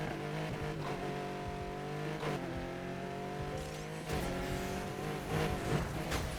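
A customized car races in the video game Need for Speed, its engine droning and revving through rising gear pulls, with brief squeals and shifts as it speeds along, loud and close with no talk.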